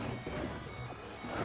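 Lucario lands a forward smash in Super Smash Bros. Brawl, a sharp hit over loud, dense, continuous game sound that lasts the whole moment.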